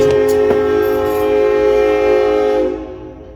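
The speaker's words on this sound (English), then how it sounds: "Look at this fucking train, bro." An anime train sounds a loud, sustained horn-like tone over rumbling rail noise with a couple of sharp clanks, then fades out near the end, with no talking.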